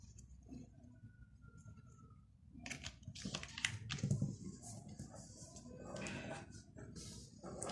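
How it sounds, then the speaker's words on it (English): A sheet of origami paper is folded in half, with soft crinkles and creasing taps as the paper is handled close by. "fold this whole paper into half."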